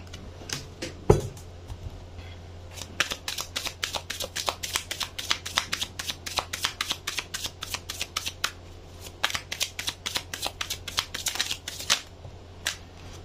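Tarot cards are shuffled by hand in quick, crisp riffles and taps that run almost continuously and sound close, with one brief thump near the start.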